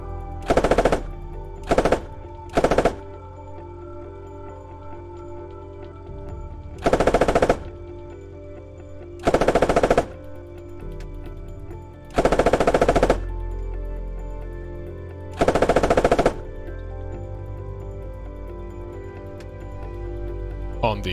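Test shots from the coaxial machine gun of an Australian armored vehicle in the video game Squad ring out as seven short, loud bursts at irregular intervals, each separated by a low engine hum.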